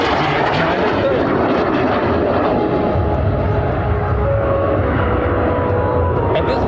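Frecce Tricolori MB-339 jet at full throttle during an airshow, a loud continuous roar with a commentator talking over it.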